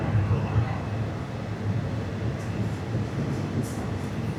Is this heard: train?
yes